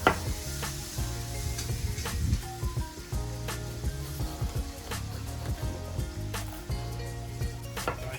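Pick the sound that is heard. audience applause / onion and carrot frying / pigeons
onion and carrot frying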